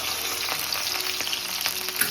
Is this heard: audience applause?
no